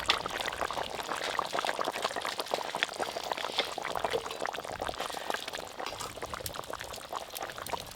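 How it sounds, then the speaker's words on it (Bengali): Oil left over from frying hilsa fish is poured and drizzled over a finished fragrant hilsa curry, giving a steady close-up liquid splatter and patter that runs unbroken for the whole stretch with no talking. "সব শেষে ইলিশ মাছ ভাজার যে তেলটা আছে ওপর দিয়ে একটু ছড়িয়ে দেবো।"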